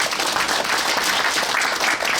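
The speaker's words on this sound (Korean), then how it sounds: "그 자리에서 우리 격려의 박수 한번 쳐드립시다" Encouraging applause from an audience at a Korean church prayer gathering held in a hotel hall, a dense, steady wash of many hands clapping close by for the whole stretch, with no talking over it.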